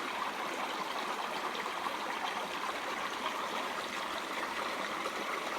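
Continuous babbling creek water flows nearby, an even, bright rushing sound with no breaks and no voices.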